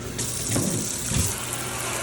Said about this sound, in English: Our sinks are looking like crap, but water runs.